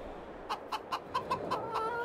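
Farmyard chickens in a winter coop give a series of about eight short, soft clucks at an even pace, fairly close and quiet against a low background hiss.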